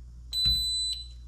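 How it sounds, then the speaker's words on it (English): A VEVOR gun safe keypad gives a single high, sustained electronic beep of about a second, with a low hum and a brief thump underneath. "There's the long beep."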